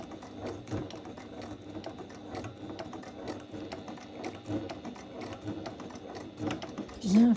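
A domestic sewing machine runs in quick, even bursts while stitching the handles of a fabric bag, close and moderately loud, with the motor whirring and the needle tapping in a steady rhythm.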